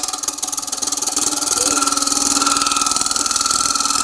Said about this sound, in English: Let's take one final cut here, and I'm going to make this wall just a bit thinner.